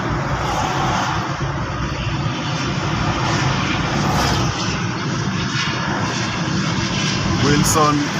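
Airplane engine near Wilson Airport in Nairobi, heard as a steady, loud broadband roar that persists throughout and mixes with road and car noise during a drive.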